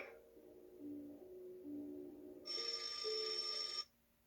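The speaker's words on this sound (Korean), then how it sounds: "이때 전화 소리는 무시무시한 소리가 되죠." A telephone bell rings in the 1956 film Bigger Than Life, a bright steady ring that cuts in over low background score and quiet movie dialogue, then stops abruptly.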